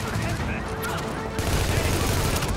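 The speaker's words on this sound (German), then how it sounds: "ich schieße auf den" Continuous gunfire from The Division fills a tense firefight with dense rapid shots throughout, loud and close, and a voice speaks briefly.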